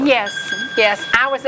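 A phone alarm sounds in the background as a steady electronic tone while people talk loudly over it.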